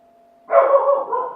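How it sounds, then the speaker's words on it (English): A dog lets out a single loud, close bark that trails into a short rough yelp, heard alone after a brief quiet tone. "Oh, the dog's barking."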